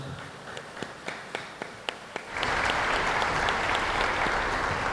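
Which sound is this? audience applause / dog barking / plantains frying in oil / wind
audience applause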